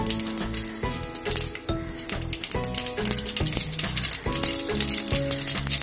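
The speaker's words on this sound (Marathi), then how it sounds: "तेल तापलंय, त्याच्यामध्ये आपण इथे जिरं मोहरी मी एकत्र करून ठेवलंय ते घालूया" Cumin and mustard seeds hit hot oil in a kadhai on a gas stove, crackling and popping in rapid, uneven bursts close by, with tonal background music running underneath.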